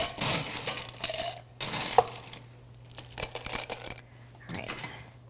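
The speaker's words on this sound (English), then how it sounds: "So we're just going to ice our glasses" Ice cubes clatter and clink into cocktail glasses for Metaxa sangria in bursts of sharp rattling, with quieter gaps and a low steady hum between them.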